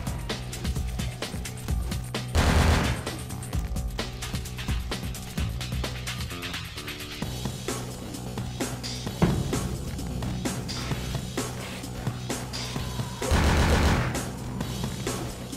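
Gunfire in the video game Bloodlines, with repeated shots and bursts sounding over a dense game soundtrack, with louder flurries of shots near the start and again toward the end.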